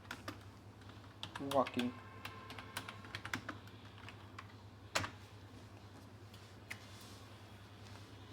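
Keys clatter on a computer keyboard in a quiet room, with brief bursts of typing and scattered single clicks, close but soft, while a person speaks briefly.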